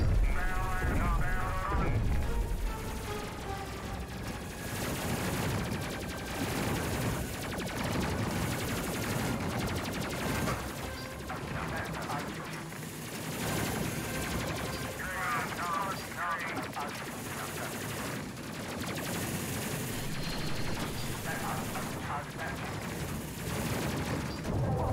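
Ship guns in the space game Space Crew fire in rapid bursts and long mechanical volleys, loud and continuous under a busy mix of game sounds and voices.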